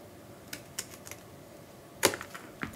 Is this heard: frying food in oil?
no